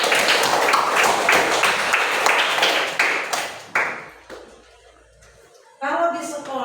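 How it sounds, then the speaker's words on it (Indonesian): Children in a classroom clap in a burst of applause that fades out. A short pause follows, then a voice speaks near the end. "Iya, tepuk tangan buat itu."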